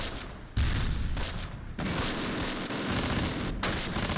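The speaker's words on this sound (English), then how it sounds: "I don't know if that was a mortar or if that was the tank shot" Combat in the Close Combat: Panthers in the Fog video game, a World War II battle at Hill 314 in August 1944, with a mortar or tank shot: dense, loud gunfire and heavy bursts roll on continuously, with a sharp surge about half a second in.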